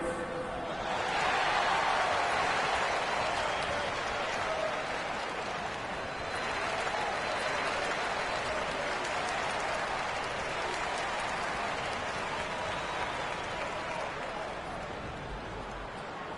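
Arena crowd noise in the NBA 2K26 basketball video game during a timeout, a steady loud wash of cheering and applause that swells early and holds for the whole stretch, with no distinct talk over it.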